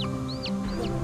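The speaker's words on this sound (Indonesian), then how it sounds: "Suara anak ayam." Faint, high chick cheeps, a few short rising and falling peeps, sound over a steady low hum in a forest at night.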